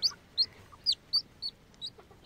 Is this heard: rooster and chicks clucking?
yes